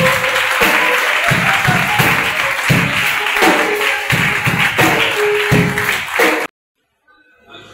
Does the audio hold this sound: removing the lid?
no